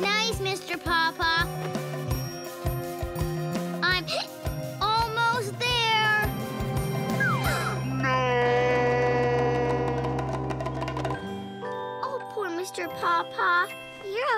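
Cartoon cat meows ring out repeatedly in a children's animated show, high, bending calls mixed with jingling and light music, with a voice talking in between.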